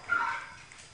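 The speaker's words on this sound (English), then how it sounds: "What's a dog barking at?" A dog gives a single short, faint bark at a distance, over a quiet background.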